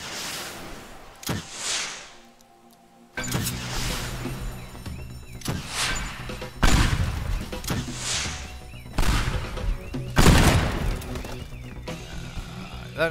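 Rocket launcher firing in Teardown, heard as several loud blasts spread across the clip, each with a sharp onset and a broad roaring tail, separated by brief quieter stretches.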